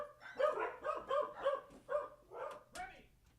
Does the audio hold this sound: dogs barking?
yes